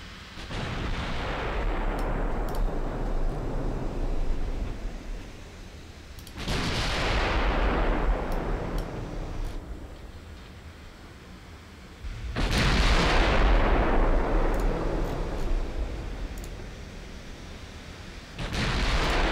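Mark 3 naval guns fire in the Ultimate Admiral Dreadnoughts game, with three heavy booming salvos spaced several seconds apart, each followed by a long rumbling decay, loud and without talk.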